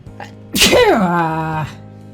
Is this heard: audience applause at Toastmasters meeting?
no